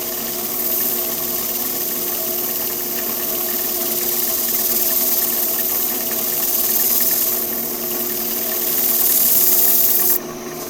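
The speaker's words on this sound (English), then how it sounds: "This lathe no longer likes to go slow." A woodturning lathe's motor runs steadily at speed with a constant mechanical hum and whine, close by and unbroken for about ten seconds, no voices.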